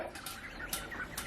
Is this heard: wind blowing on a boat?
no